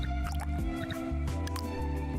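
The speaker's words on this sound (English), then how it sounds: "Water pumps." A water pump clicks into place in a building video game, a short run of wet squishing and dripping effects over a soft background music bed, with no voices present.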